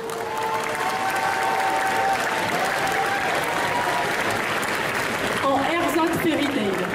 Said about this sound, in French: je vous demande d'applaudir bien fort LR Cosplay